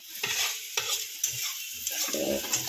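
Food fries in a pan under brisk spatula stirring, with repeated scraping strokes over a constant close sizzle and no one talking.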